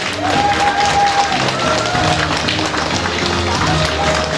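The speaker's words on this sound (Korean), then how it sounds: "여러분 다시 한 번 큰 박수 부탁드리겠습니다." Crowd applause at an outdoor launch ceremony for a youth group, a steady wash of clapping and cheering across the whole span, with an announcer's voice and a sustained tone running over it.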